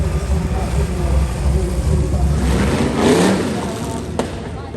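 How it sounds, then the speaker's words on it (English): Unsilenced F1 stock cars roar past at a world final race, a loud rumbling engine drone that swells and fades, with a commentator talking over it. "No silencers on these cars."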